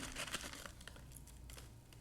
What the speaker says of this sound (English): So let's first unwrap Sheng Puer.